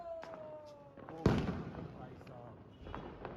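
A Diwali firework goes off during a family celebration: a single sharp bang after a descending whistle, fairly close, with excited voices chattering around it and faint pops in the distance.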